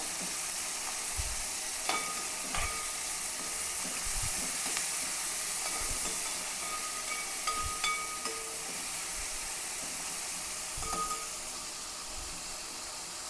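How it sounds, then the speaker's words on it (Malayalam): Chopped onion, green chilli, ginger and garlic sauté in a pan, giving a soft continuous sizzle with scattered clicks and scrapes of stirring, fairly faint and steady throughout. "ഇതിലേക്ക് സവാള ഉള്ളി പച്ചമുളക് ഇഞ്ചി വെളുത്തുള്ളി എല്ലാം കട്ട് ചെയ്തതാണ്"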